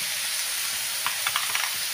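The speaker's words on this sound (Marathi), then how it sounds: "आता त्यामध्ये आपण भिजून घेतलेली मुगाची डाळ टाकून अशी डाळ पण त्या भाजीमध्ये मिक्स करून घेऊ" Chigal wild greens and soaked moong dal being stirred in hot oil in a pan: a steady soft sizzle, with a few brief scraping stirs near the end and no talking.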